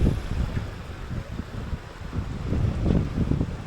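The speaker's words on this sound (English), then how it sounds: "It's getting very windy again." Gusty wind buffets the microphone outdoors in Cyprus, a continuous low rumbling roar with uneven bursts that swell and fade, close and fairly loud, with no other sounds standing out.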